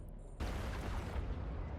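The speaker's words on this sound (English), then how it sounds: "Look at the explosion here." A loud explosion in a relaxed tank-build playthrough of a video game bursts in abruptly after a quiet moment, then settles into a sustained, dense rumble that fills the rest of the short stretch without speech.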